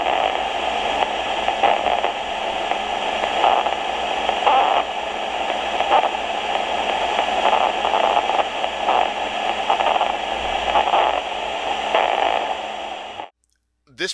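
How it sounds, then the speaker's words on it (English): Amplified nerve spikes from a cockroach leg being brushed, heard as a steady radio-like static hiss with bursts of crackling spikes running throughout, close and fairly loud, before cutting out near the end. "Now watch what happens as I elicit more spikes by brushing the primary leg."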